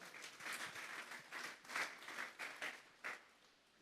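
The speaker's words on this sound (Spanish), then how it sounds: "Vamos a darle un fuerte aplauso pues al Señor" A church congregation gives a faint round of applause for the Lord, uneven clapping rising and falling in bursts throughout.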